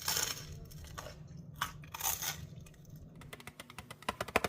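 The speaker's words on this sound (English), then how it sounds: "Incoming eating sounds." Crisp crunching and snapping bites of crunchy food, close up, growing into rapid sharp crackles near the end with no talking.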